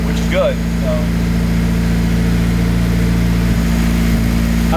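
A Nissan SR-Z engine idles high with a steady, loud, even drone that holds without revving, while people talk over it.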